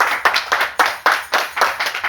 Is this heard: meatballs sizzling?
no